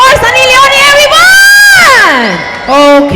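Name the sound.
audience applause and cheering for Sunny Leone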